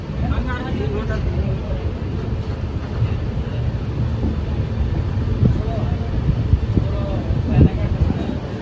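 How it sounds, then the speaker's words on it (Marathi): Busy platform ambience at Khurda Road Junction railway station: a steady low rumble of trains and station machinery with a constant murmur of distant voices and occasional clanks throughout. "हे आहे खुर्दा रोड जंक्शन."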